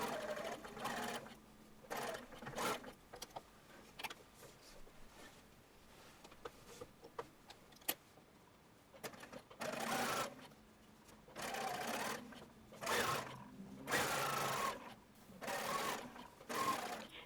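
Sewing machine stitching the curved shoulder seams of a drop-shoulder shirtwaister dress, running in repeated bursts of steady whirring with short pauses between seams, close and clear.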